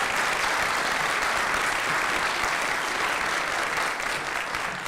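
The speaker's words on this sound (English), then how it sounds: "I think that deserves a round of applause" Sustained applause from a graduation ceremony crowd honouring a long-serving judge, steady and dense clapping that holds for the whole stretch and eases slightly near the end.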